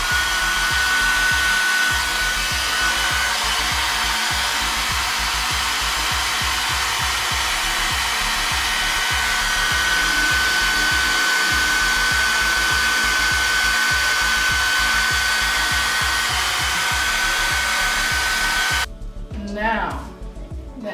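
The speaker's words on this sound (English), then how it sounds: "I'm gonna take the blow dryer again and my rat tail comb, and I'm gonna blow dry as I put pressure along the hairline" A blow dryer roars steadily and close up while drying the hairline of a full lace wig, running continuously for about twenty seconds before briefly cutting out near the end as someone starts talking.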